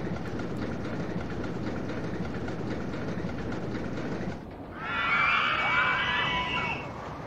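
A fully loaded train runs on its track in the OpenRCT2 game, a steady rumbling clatter of wheels that gives way midway to a brighter, rising screech and whir as the ride picks up.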